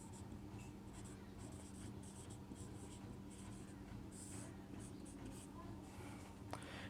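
Writing on a board or paper during a Hindi English-grammar lesson, a faint, repeated scratching of strokes in short bursts beneath a steady background hum, with a teacher talking over it.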